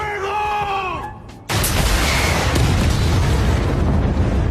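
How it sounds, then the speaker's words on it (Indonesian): An RPG rocket strikes an armored police car in the Money Heist series. A tonal, voice-like sound comes first, then the blast erupts as a sudden, loud, sustained roar that fills the rest of the clip. "Tokyo pun melepaskan tembakan RPG ke mobil tersebut yang"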